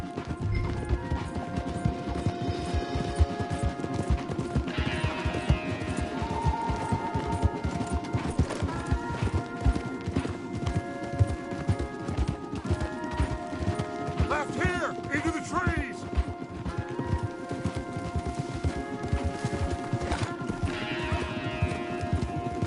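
Horses gallop in Red Dead Redemption 2 with a loud, steady drumming of hooves throughout, mixed with musical score and gear rattling, while voices shout over the ride.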